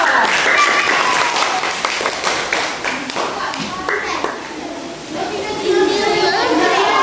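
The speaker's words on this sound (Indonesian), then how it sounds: "tepuk tangan untuk kelompok 2" Applause for a group of children in a classroom presentation, steady clapping throughout with a brief dip, mixed with light chatter underneath.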